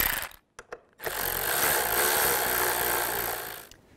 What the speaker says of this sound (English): and then we can tighten down these bolts